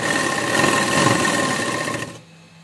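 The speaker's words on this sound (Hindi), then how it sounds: "थोड़ा थोड़ा माया कम करते हुए साइड की सिलाई करेंगे, जो हमारे बुरखे की साइड का हिस्सा है" A sewing machine stitches the side seam of a burqa, a dense, steady mechanical whirr running close and loud before cutting off abruptly near the end.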